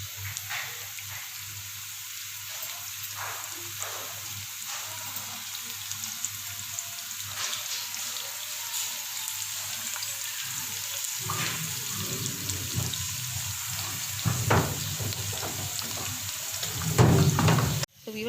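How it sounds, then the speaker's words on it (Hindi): Three large onions frying in hot oil for a Bombay biryani, a steady low hiss with scattered crackles throughout, building slightly toward the end with a few louder pops. "जब तक हमारे प्याज फ्राई होती है"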